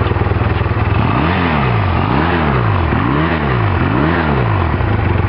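A 1985 Honda Rebel 250 motorcycle engine, choke fully off after a carburetor overhaul, struggles to idle close by, its loud rough putter rising and falling in four repeated surging swells.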